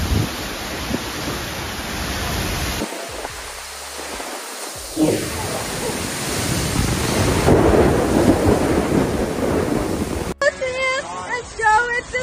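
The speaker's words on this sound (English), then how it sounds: "a powerful storm caused massive damage in many areas" Heavy rain roars steadily with deep rumbles of thunder during a powerful storm on the Gold Coast, Queensland, Australia, rising louder toward the end, where a voice is heard briefly over the downpour.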